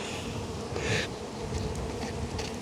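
Honey bees in an open, honey-heavy hive with many young bees on top, a smoker running nearby; a dense, steady buzz fills the whole stretch close up, swelling slightly in places, with no talking.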